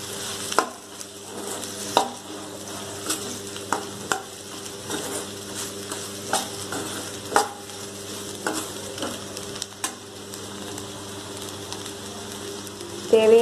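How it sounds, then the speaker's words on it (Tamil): Okra curry sautéed with chilli powder and mutton masala, a spoon scraping and stirring the pan in repeated knocks over a continuous low sizzle, close and alone without talk. "மிளகாத்தூள், மட்டன் மசால் போட்டு நல்லா வணக்கி விட்டுருங்க."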